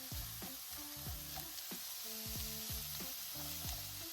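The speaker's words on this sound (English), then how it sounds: "Allow those to saute and soften" Diced vegetables and browned minced turkey sauté in one pan for chilli, giving a steady close sizzle with occasional stirring under a tonal background melody.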